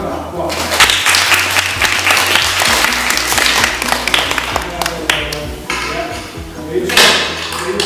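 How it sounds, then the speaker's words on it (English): Loud, uneven clapping from a small group during a visit to Llanberis, with sharp individual claps, some clinks and knocks, and people talking and calling out over it. "Go on, give him a clap"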